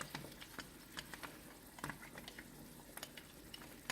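Quiet, irregular bubbling and popping of thick chana masala curry gravy simmering in a pot, soft clicks scattered throughout, no voices.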